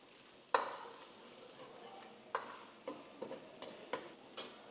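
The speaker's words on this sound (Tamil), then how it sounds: "இஞ்சி பூண்டு கூட வெங்காயம் நல்லா ப்ரௌன் ஆகிற வரைக்கும் நல்லா வெங்காயத்தை ரோஸ்ட் பண்ணுறோம்" Onions roasting with ginger and garlic in a pan for a roadside mushroom kalan, heard as a faint sizzle with several sharp stirring clicks and scrapes of a utensil against the pan.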